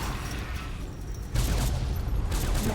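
Explosions in the video game Fallout: New Vegas during the Lonesome Road add-on, a sustained rumbling barrage that jumps louder halfway through with crackling bursts, no talk over it.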